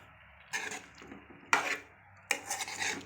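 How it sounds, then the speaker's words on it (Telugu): A spoon stirring chili powder into a tomato curry in a pan, three distinct scraping bursts against the pan separated by short quiet gaps, close and moderately loud. "మనం కారం వేసుకున్న తర్వాతకి కర్రీని ఈ విధంగా కలుపుకోవాలండి"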